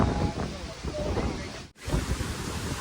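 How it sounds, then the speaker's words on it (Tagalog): Strong typhoon wind buffets the microphone on a beach in Boracay, Philippines: a loud, steady roar with gusting rumble. It cuts out briefly, then resumes just as strong. "dahil sa tindi ng lakas ng hangin dahil nga may bagyo"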